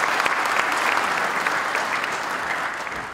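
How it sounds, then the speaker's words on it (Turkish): A conference audience gives dense, steady applause for a government minister at an R&D and innovation summit. The clapping stays loud and close for the whole stretch with no voices over it. "Alkışlarınızla."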